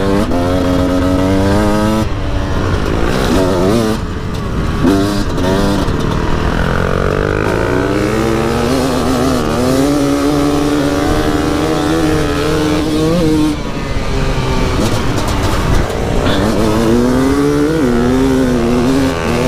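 A motorcycle engine runs loud and steady while riding, its pitch sweeping up and down as it revs and shifts, with no break in the roar.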